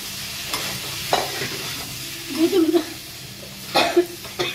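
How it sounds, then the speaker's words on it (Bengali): Potatoes tossed into frying spices in a pan for aloo dum, a close sizzle with stirring scrapes and a couple of louder spatters, over a faint murmur of background voice and a cough. "মশলাটা ভাজা হয়ে গেছে, এবার আমি আলুগুলো দিয়ে দেবো"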